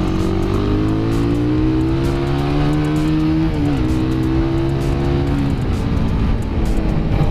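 Suzuki Satria FU motorcycle engine running on Yamalube oil, a loud steady buzzing drone that climbs in pitch as it revs and then holds, with no talking.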